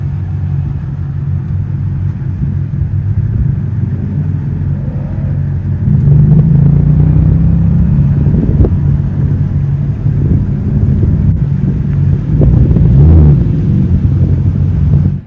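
A 700-horsepower 5.2-liter V8 in a 2024 Ford F-150 Raptor R driving off-road, a loud, steady low engine rumble with throttle surges swelling near the middle and again toward the end.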